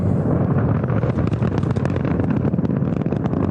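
A rocket engine roars after liftoff, a loud, dense, continuous rumble with crackling texture filling the whole stretch, with no voices over it.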